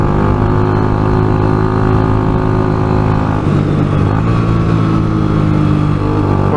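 A Suzuki Intruder 125 custom motorcycle riding, its engine giving a loud, steady droning hum that dips and shifts pitch midway as if changing gear, up close and with no talking.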